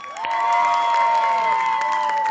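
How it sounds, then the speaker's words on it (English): A circus audience cheers, whoops and claps loudly after a performance, with high shouts rising over the applause in a brief, energetic burst. "Let's give Austin a big round of applause"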